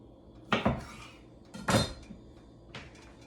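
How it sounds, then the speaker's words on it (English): Salsa being stirred in a bowl with a utensil, making three distinct clinking, scraping knocks against the bowl spaced about a second apart, close and fairly loud with no talking. "Now, stir around my salsa."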